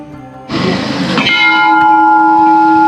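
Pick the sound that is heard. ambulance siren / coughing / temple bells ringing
temple bells ringing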